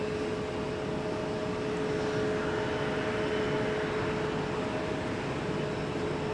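A landing airplane arriving on runway 30 left at Minneapolis–St. Paul Airport, a steady, loud broadband roar with a constant engine whine that holds throughout without talk.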